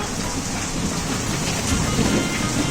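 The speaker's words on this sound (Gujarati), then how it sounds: "વરસાદ ચાલુ થઈ ગયો છે" Rain beginning to fall outdoors in Banaskantha, a steady broadband patter with low rumbling underneath, continuous and fairly even throughout with no speech.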